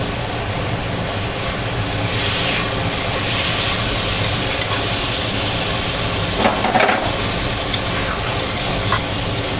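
Food sizzling steadily in a pan with turmeric, a continuous hissing fry with occasional stirring scrapes and no talking.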